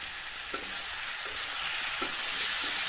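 Fish and potato curry with chili powder is stirred in a pan, giving a steady loud sizzle with a few soft spoon scrapes against the pan.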